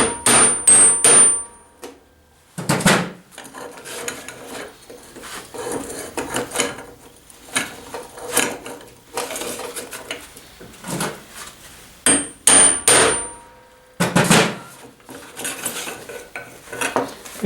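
A hammer strikes steel rings being forged for a Mjolnir, giving sharp metallic clanks with short ringing tails in irregular clusters of blows, close and loud, with quiet gaps between bursts and no talk.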